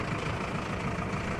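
A new Zetor tractor's engine runs at a steady idle, a close, dense diesel rumble with a slight regular throb that holds constant throughout, with no talk.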